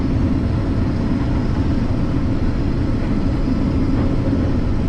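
A tractor engine runs steadily through a soybean harvest, a loud, continuous low rumble with no talk over it.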